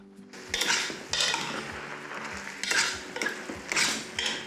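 Onions softening in a pan while a utensil stirs and scrapes against the metal in several clattering bursts, close up over a faint low sizzle.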